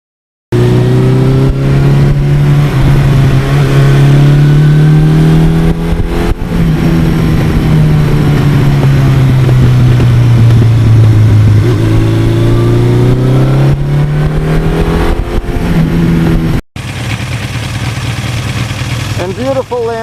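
A 1982 Suzuki GS1100E motorcycle with higher gearing is ridden, its engine droning loud and close with steady pitch rises and falls as it shifts, while the rider talks over it.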